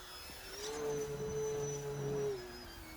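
An E-flite Turbo Timber Evolution electric RC plane flies overhead into a stall turn, its motor giving a thin steady whine that swells, holds and then drops away, fairly faint and distant.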